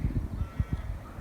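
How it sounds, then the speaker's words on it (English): Several crows caw in short repeated bursts, loud and fairly close, on a calm, nearly windless clear day outdoors with no talking. "I apologise about the noise of the crows"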